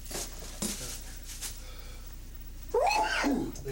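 A single sneeze bursts out near the middle of a room at a tea party, followed by muffled voices and a bit of background murmur.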